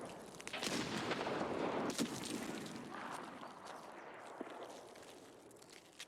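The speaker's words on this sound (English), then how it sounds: "More nades going off." Grenade blasts in a shooter video game, a series of loud, broad bursts over continuous battle noise that rumbles on for several seconds.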